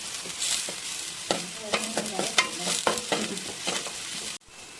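Chopped onions with garlic paste sautéing in a hot pan for chicken fried rice, a soft steady sizzle broken by repeated scraping stirs of a spatula, close and fairly quiet.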